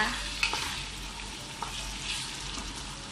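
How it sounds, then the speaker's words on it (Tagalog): Tomato paste sauce for fish salona is sautéed and stirred in a pan, with a continuous soft sizzle and occasional spoon taps against the metal, fairly quiet and close; no talking. "Tapos gisa-gisa mo ulit. Halo-haloin."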